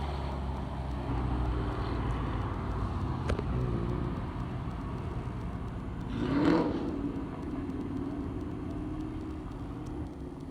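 A Ford Mustang drives past at a drag racing event, its engine swelling briefly to a moderate peak mid-clip over a steady low rumble of background traffic and crowd noise.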